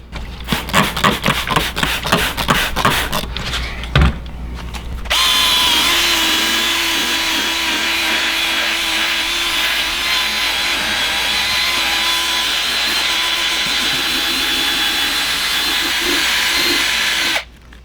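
A power drill spins a sanding pad across a yellowed car headlight, starting with short stop-start bursts before running steadily for about twelve seconds, loud and close, then cutting off abruptly.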